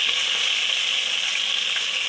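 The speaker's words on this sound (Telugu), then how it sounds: "పచ్చిమిర్చి ఇలా ఆనియన్ వేసుకున్న తర్వాత ఇవి బాగా యాంచాలి" Onions and green chillies fry in a pan for biryani, a steady, even hiss of bright sizzling that stays constant without pauses or voices.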